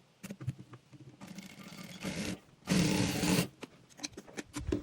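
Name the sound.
sewing machine stitching a frock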